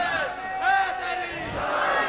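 A crowd at a religious gathering shouts a slogan in unison, a loud, swelling chorus of voices rising and falling over about two seconds.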